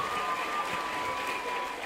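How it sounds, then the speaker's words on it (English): A conference audience gives a steady, continuous round of applause, dense clapping filling the room from start to finish with a faint tonal hum underneath. "Please give yourselves another round of applause."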